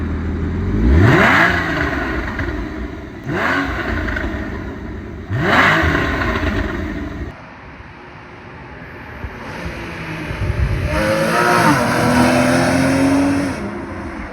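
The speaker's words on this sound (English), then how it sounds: "One last drive with the standard exhaust." A Porsche 981 Cayman S with standard exhaust revs and surges in repeated bursts, loud and close, with wind rushing past as the car drives on.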